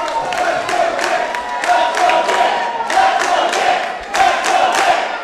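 A wrestling crowd at an indoor Saturday Night Mayhem event cheers and yells steadily, with rhythmic swells of shouting and a few louder bursts.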